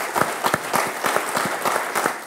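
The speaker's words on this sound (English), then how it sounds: "A round of applause for everybody all the way around." Conference audience breaks into applause, a dense burst of many hands clapping at steady volume throughout, with a faint voice briefly audible beneath it.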